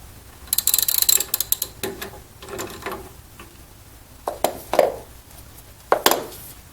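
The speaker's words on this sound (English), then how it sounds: "It's important that you hold on to the connection joint so that it doesn't turn as you turn your socket wrench." A socket wrench ratchets while removing the crossbar nut on a BRT7820 Trio-Trainer, giving bursts of sharp, close clicking in short irregular runs with pauses between them.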